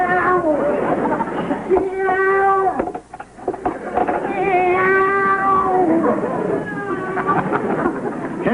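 A man mimics a cat's meowing with drawn-out, wavering cries in a vintage sitcom scene, loud and near, with a brief pause before the imitation resumes.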